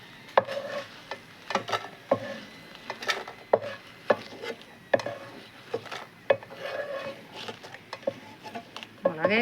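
Chilies frying in coconut oil in a pan, stirred for a Kerala-style side dish: close, repeated scraping and clattering strokes of a spoon against the pan recur in an irregular rhythm over a soft frying hiss.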